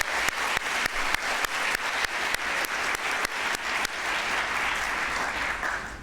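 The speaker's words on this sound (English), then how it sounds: "One more round of applause" Audience at a Model UN conference hall claps steadily with many hands, a dense sustained wave of applause with some strong, regular claps cutting through the first few seconds.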